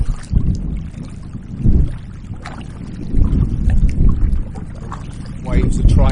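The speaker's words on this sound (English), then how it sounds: "Shows you how windy it is." Wind gusts over a kayak on choppy lake water, rumbling in uneven bursts with water slaps and paddle splashes close by, and someone talks intermittently under it.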